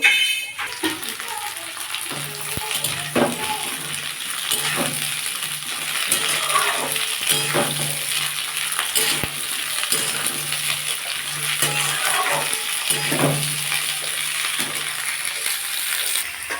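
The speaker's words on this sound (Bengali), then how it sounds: "আমি এর মধ্যে ফুলকপিটা দিয়ে ফুলকপিটা ভাজবো" Cauliflower fries in hot mustard oil in a wok, giving a continuous crackling sizzle broken by scattered metallic clinks and scrapes of a utensil against the pan.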